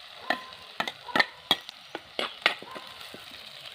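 Onion and ginger frying in a pan give a soft sizzle under a series of sharp clinks and taps, likely a spatula stirring against the pan at an uneven rhythm.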